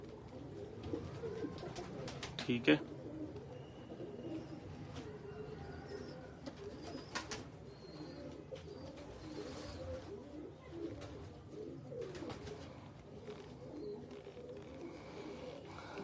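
Cooing from Lakha pigeons in a breeder's loft runs softly and steadily throughout, with low murmuring coos layered over ambient noise and a brief voice near the start.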